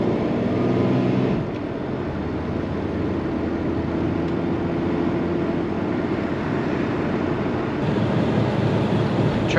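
Steady engine drone from a 1966 Jaguar S-Type with a 3.8L engine cruising at highway speed around 2200 RPM, a constant low hum blended with road and wind noise, no voices.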